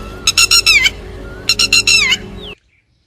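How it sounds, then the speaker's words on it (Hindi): A red-wattled lapwing gives two loud bursts of sharp, repeated shrill calls, each a quick run of piercing notes, then the recording cuts to silence. "बारिश के पूर्व यह पक्षी शोर मचाता है।"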